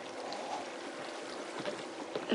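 Water flowing in the Minecraft video game during a diamond-mining session, a faint, steady trickling and streaming sound with no voice over it.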